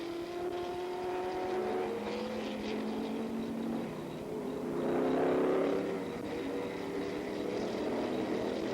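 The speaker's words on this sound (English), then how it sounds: "Oliver in the BRM was setting a cracking pace and seemed to have the race in hand." 1970s racing cars, a BRM among them, pass at speed, their engines a continuous droning whine with shifting pitch that swells as a car comes nearer mid-way, heard from trackside at moderate distance, with no speech.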